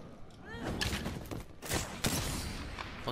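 Gunfire in a battle-royale shooter video game, several bursts of shots and thuds crackling across the clip amid other game sounds, with a voice briefly audible in the mix.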